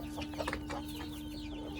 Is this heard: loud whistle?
no